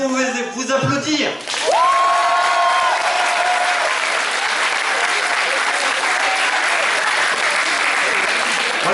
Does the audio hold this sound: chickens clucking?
no